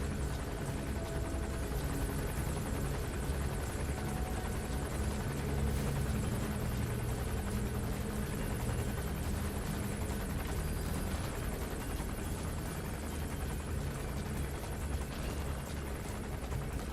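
Helicopter in a Metal Gear video game, a constant dense rotor thrum and engine roar filling the whole stretch at a steady, close, loud level.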